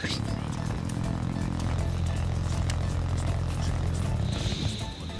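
A helicopter in the video game Black Ops 3 produces a steady, loud rotor and engine drone that fills the scene throughout, heard alone with no talk.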